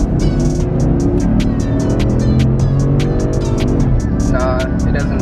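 Steady, loud engine drone of a Porsche Cayenne S accelerating down a straightaway, heard from inside the cabin as a continuous rising throb, with brief clicks and a faint whine near the end.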